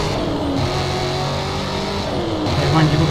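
A Dodge Challenger accelerates hard in the Need for Speed Carbon racing game, its engine roaring loudly and continuously while a voice talks over it.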